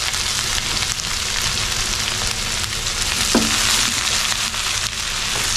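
Crushed ginger fries in hot oil in a pan for prawn pickle, a loud, dense, continuous sizzle with one brief clink partway through.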